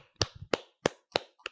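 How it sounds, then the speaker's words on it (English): A few sharp, close handclaps in a slow, uneven series of about five, loud and isolated in an otherwise quiet podcast room. "we'll clap."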